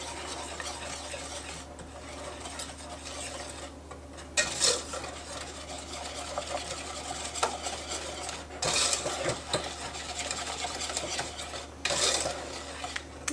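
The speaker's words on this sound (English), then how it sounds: "We're going to whisk all of that together." A whisk clinks and scrapes around a bowl mixing apple cider vinegar, nutmeg and salt for pecan pie kolaches, a steady close stirring with a few sharper taps against the bowl.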